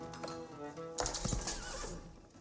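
A horse whinnies in Age of Empires 4 during an Abbasid Dynasty versus Rus match, a loud harmonic neigh riding over steady game ambience, followed by a burst of hoof and unit noise.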